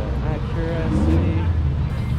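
A BMW rolls into a car meet, its engine a steady low rumble heard close by, with a murmur of people chatting around it.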